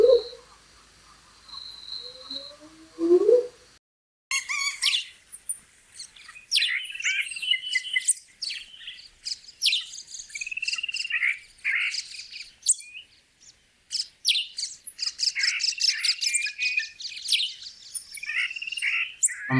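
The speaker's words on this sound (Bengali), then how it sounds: "পাখির ডাকে জাগি" Birds chirp and call at dawn in the Serengeti's Seronera area, bright repeated tweets and trills layered with croaking and insect sounds, fairly close and continuing throughout.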